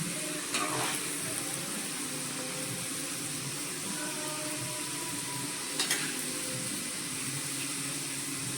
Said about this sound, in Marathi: एकदा काढले मी तळून आणि हे सेकंड टाइम टाकले